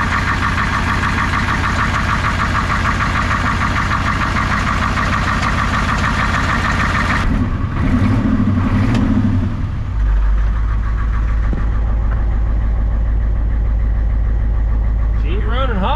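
A Ford 7.3 IDI diesel engine, just back together after a head gasket replacement, runs close by with a loud, steady knocking idle; midway the tone shifts to a deeper drone, and a voice talks over it.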